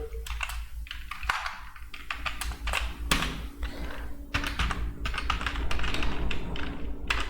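Typing on a computer keyboard while entering accounts in Tally Prime: fast, uneven clusters of plastic key clicks and taps that run steadily, with brief pauses between bursts.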